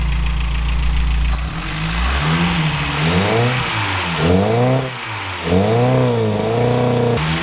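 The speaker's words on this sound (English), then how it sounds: "Let her idle." A car engine runs loud and close after new plug wires were fitted and its carburetor was noted as faulty; the idle surges and dips through several rising and falling revs.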